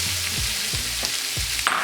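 Onion and tomato sautéing in leftover hot oil from frying pork, a steady close sizzle with a few soft stirring scrapes, no voices.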